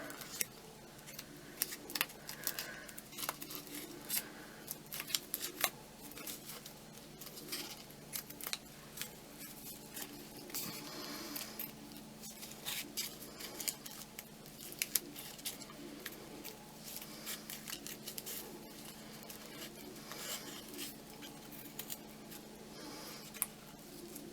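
Scissors snip out craft leaves made from bubble wrap and felt: many small crisp cuts, close and fairly quiet, in uneven bursts that run throughout with no talk.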